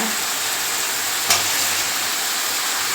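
Drumstick and brinjal sauté in a pan with a constant, even hiss of frying, broken once by a single brief clatter partway through, with no voices.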